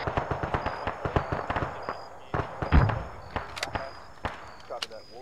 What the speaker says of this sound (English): Be advised, we are taking sniper fire.